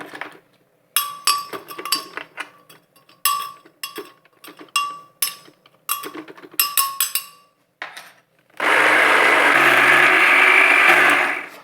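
A kitchen blender grinds peanuts into homemade peanut butter, first in short choppy pulses with clinking and rattling, then in one loud, steady high-pitched whirring run near the end.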